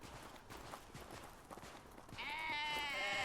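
Sheep-like bleats from goats being herded in Cowboy Life Simulator rise near the end, a loud wavering call over a steady bed of hoof clatter and footsteps.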